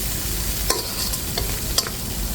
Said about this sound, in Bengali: মাথাটা মশলার ভিতরে একটু কষিয়ে নিচ্ছি।